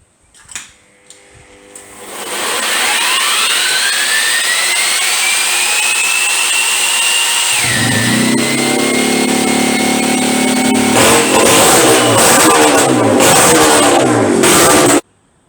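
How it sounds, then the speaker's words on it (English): A freshly rebuilt motorcycle engine fires up after a few tentative attempts, then runs steadily and loudly with a rising whine that settles, its pitch dropping midway before some rapid revving near the end. "So this is the number 1 engine in the bike, and as you just saw, it runs and runs pretty well."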